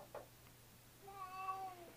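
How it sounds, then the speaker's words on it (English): A young male cat gives a short meow near the start, then a longer, drawn-out meow about a second later, close and fairly quiet in a calm room without speech. "Yeah, he's a kitty."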